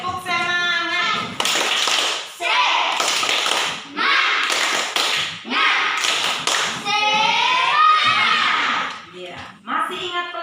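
A school class does a rhythmic spirit clap, a chanted clapping routine with sharp claps and taps in a repeating pattern mixed with children's and a teacher's chanting voices, loud and close throughout.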